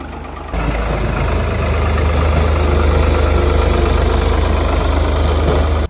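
A Mahindra Arjun Novo tractor with a rotary pump and no silencer starts and runs at a steady, low rumbling diesel idle close by, with a constant throb and no talking.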